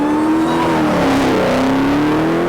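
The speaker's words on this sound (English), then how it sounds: "That's third gear, and that whine is in your face" A 2018 Dodge Challenger Hellcat Widebody accelerates hard in third gear, its loud, close supercharger whine rising steadily over a dense engine roar with no voices.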